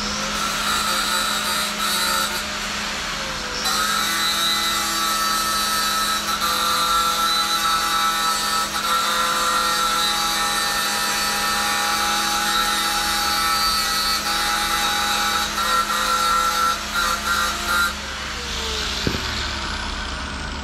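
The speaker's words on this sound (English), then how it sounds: "I'm gonna come back and grind this down, give me a flat spot so I can put that bolt through." Power grinder working on metal to cut a flat spot for a bolt during a wheelbarrow go-kart build, a loud, continuous high whine that holds steady for about twenty seconds before cutting off near the end.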